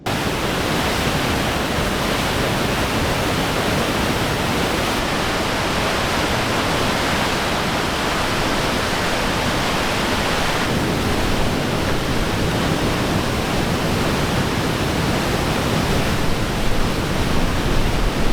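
A raging river rushes beside a camp spot in northern Sweden, producing a loud, unbroken broadband roar of churning water that holds steady throughout.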